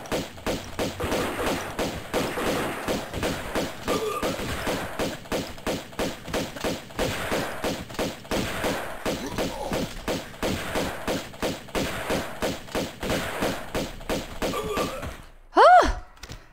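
Rapid pistol fire during a fight in Tomb Raider 2 Remastered: a steady stream of close, punchy shots in fast repeated rhythm with thuds mixed in, continuing for many seconds before breaking off near the end.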